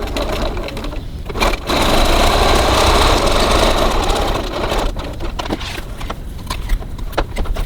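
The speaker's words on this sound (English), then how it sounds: "so now we're stitching the top end of our body panel assembly" A sewing machine stitching a wallet fabric panel, a rapid close mechanical whirr that starts and stops in bursts, with a long steady run in the middle and short pauses around it.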